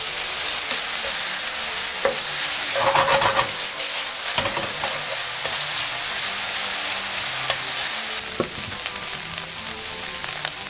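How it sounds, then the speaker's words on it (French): Bacon lardons fry with cooked onions in a pan, giving a steady dense sizzle and crackle with occasional stirring scrapes, close and continuous throughout with no talking. "je vais ajouter les lardons."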